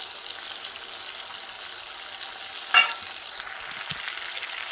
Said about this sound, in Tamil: சேர்த்துட்டு லோ ஃப்ளேமில் ஒரு நிமிஷம் வந்து மசாலாவை நல்லா வதக்கிக்குங்க.